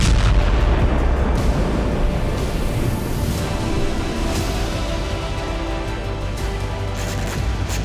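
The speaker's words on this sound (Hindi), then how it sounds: "आर्मर्ड व्हीकल पर बैठकर यूक्रेनी soldiers large calibre machine gun से रूसी ट्रूप पर आग बरसा रहे हैं" Large caliber machine gun fire from an armored vehicle in war footage of fighting in Bakhmut, heard as a dense, loud, continuous roar of rapid gunfire and blasts with no voices.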